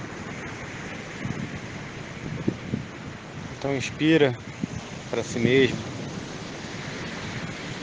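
Steady ocean waves and surf wash beneath a calm meditation voice, a soft continuous roar of sea water running throughout while a person speaks slowly over it.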